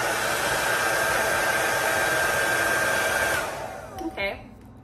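A Hot Tools Quietair power hair dryer runs on high heat and high speed, a steady loud whooshing roar that cuts off after about three seconds, followed by a few faint handling clicks.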